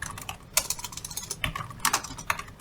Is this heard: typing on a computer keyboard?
yes